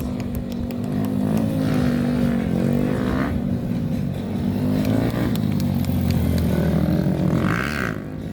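Small-bore motorcycles race at the Barber Small Bore Festival, several loud buzzing engines rising and falling in pitch as they pass close by and rev through the turns.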